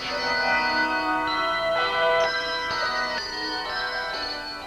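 Handbells from the Moscow Bell Choir of the Moscow Methodist Church ring in overlapping, sustained chiming tones, played as a loud, steady melody with no talk over it.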